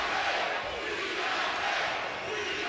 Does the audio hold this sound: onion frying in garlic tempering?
no